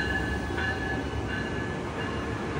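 A train arrives at a railway station with a steady, close, continuous rumble and faint metallic squeals from the wheels. No one speaks.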